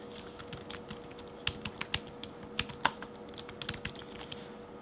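Crisp touchpad clicks on a 2022 ASUS ROG Zephyrus G14 laptop, a dozen or so sharp, close taps at an uneven pace over a steady low hum, with no talking.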